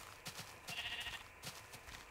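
Sheep in the video game Minecraft bleat in short bursts, one long wavering bleat in the middle flanked by quicker ones, fairly faint against a quiet background.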